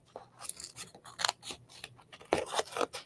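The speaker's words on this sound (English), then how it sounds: "use my scissors. I'm going to cut out this section first." Scissors snip through sticker paper while a section is cut out for a craft page, a close series of quick, crisp cuts with soft rustling between them and no talk.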